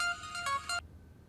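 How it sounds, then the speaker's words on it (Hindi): A phone's electronic ringtone plays a few bright repeating tones for an incoming call, fairly close and clear, then stops abruptly, leaving quiet room tone. "इधर ये सब फोन आ रहा है भाई, एमन की कॉल आ रही है।"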